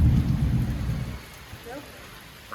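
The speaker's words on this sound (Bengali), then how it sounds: "এই তো বৃষ্টি হইতেছে বাবা রে বাবা এই পর্যন্ত আসছে বৃষ্টি" Steady rain falling under a dark thundery sky, loud and dense at first, then easing to a softer, thinner patter.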